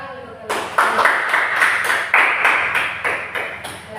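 Classroom students clap for a classmate, a short burst of rhythmic, fairly close clapping with a steady beat after a brief spoken moment at the start.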